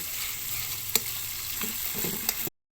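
Coconut milk sizzles steadily as it fries down into latik for biko, a dense, continuous frying hiss with a few sharp pops and crackles, close and fairly loud, with no voices over it.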